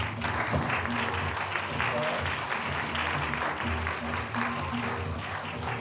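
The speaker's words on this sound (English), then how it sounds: "Round of applause for these young ladies." Audience applause fills a pageant hall as titleholders stand onstage at Miss Space Coast USA 2008, a steady wash of clapping throughout with a low hum and faint voices underneath.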